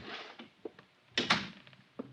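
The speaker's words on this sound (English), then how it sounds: "Close the door." A door closing in an audio drama, a few soft thuds and a louder double knock-like clunk midway, close and fairly quiet with faint room noise between.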